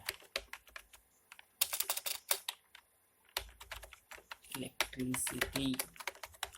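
Keys clatter on a computer keyboard as chart data is entered in presentation software, with close, quick bursts of typing broken by short pauses and a voice faintly audible near the end.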